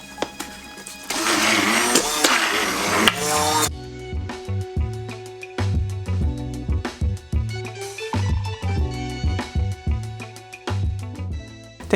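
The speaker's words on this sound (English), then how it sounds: "So now I've just plugged in the blender." An electric blender whirs loudly, mixing reclaimed pottery clay into a creamy slurry, first a sustained high roar, then a stretch of choppy, pulsing bursts as the motor labors and restarts.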